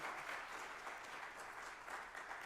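A church congregation at a revival service claps steadily for its worship team, with dense, sustained applause filling the room without pause.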